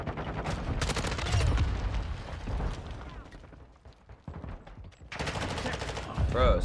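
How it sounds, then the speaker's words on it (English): Gunfire from a teammate in Call of Duty MW2 crackles in bursts through most of the stretch, loud and mixed with game sounds, easing briefly in the middle before returning; a voice talks over parts of it. "Bro, stop shooting at me."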